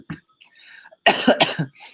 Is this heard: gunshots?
no